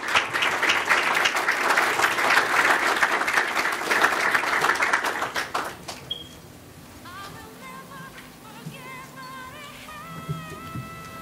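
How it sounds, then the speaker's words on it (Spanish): Dense applause from a conference audience welcoming the speakers fills the first six seconds, then fades out. Afterward a quieter room stays, with faint tones and murmurs. "Recibámoslos por favor con un aplauso"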